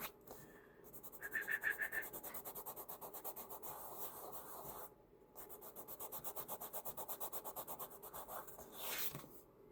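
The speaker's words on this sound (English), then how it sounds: "So I rubbed the charcoal dust on here" Charcoal dust rubbed over masking on a 1/32 scale Trumpeter TBD-1 Devastator model kit, with quiet rhythmic back-and-forth scrubbing strokes in two runs separated by a short pause, close and faint.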